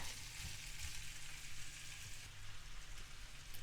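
Chicken skin sizzles and crackles steadily in a shallow, oil-less wok as its fat renders out, a continuous close frying hiss with light popping.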